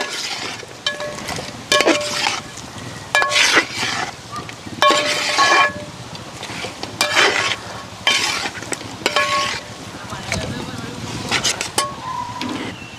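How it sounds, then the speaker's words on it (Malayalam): A spoon repeatedly scrapes and clatters through fried chicken for chicken kondattam in a pan, in bursts of stirring over a soft, steady sizzle, close to the listener. "നന്നായിട്ടൊന്ന് മിക്സ് ചെയ്തെടുക്കാവേ"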